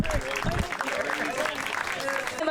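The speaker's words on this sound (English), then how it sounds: "Let's give all these guys a big round of applause." An audience at a trail race finish at a nature ecolodge in Mattawa, Ontario claps steadily for the race finishers, with cheering voices mixed into the applause.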